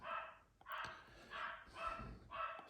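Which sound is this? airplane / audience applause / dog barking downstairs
dog barking downstairs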